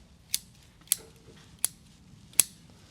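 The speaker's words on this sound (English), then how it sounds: "I'm now still going to trim a bit more." Bonsai scissors trimming foliage on a conifer, four crisp separate snips about a second apart, close and clear over a quiet background.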